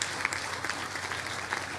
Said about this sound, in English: Give the Secretary another great round of applause